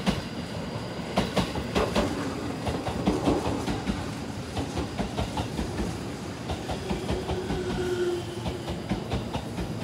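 An eight-car JR special rapid train runs past on the line, a loud steady rumble with rhythmic clickety-clack of wheels over rail joints and a brief squeal, with no voices.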